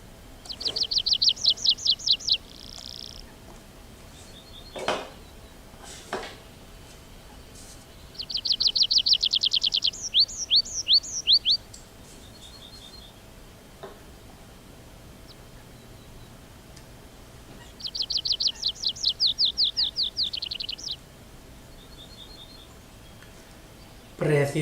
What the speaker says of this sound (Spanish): Merece la pena salir a dar una vuelta en el campo para poder escuchar estos trinos